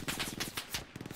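Rapid MG42 machine gun fire in a shooter video game: dense, evenly spaced bursts rattle close and loud, with short pauses between strings of shots.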